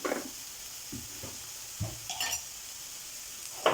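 Chicken cutlet filling, seasoned with turmeric and chili powder, stirred in a pan with a spoon in a few separate short scrapes and clacks, close and fairly quiet over a faint sizzle.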